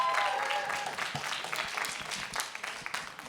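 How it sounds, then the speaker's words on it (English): Audience applause for a museum anniversary symposium panel, a broad crackle of many hands that continues steadily at moderate level and slowly fades, with a bit of talk early on. "Clap it up for them."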